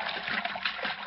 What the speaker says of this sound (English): Oh, damn that shower.